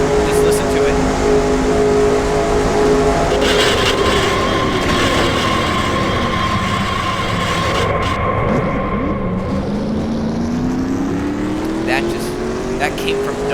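Onboard engine roar from NASCAR Racing 2003 cars at Daytona, simulating the 2000 Daytona 500. A loud, continuous drone holds throughout, with its pitch sagging and climbing again as the car runs.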